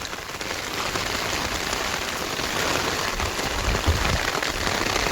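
Heavy monsoon rain falls in the Konkan countryside, a loud, continuous, close hiss of water pelting surfaces with occasional heavier splashes and thuds, and no voices.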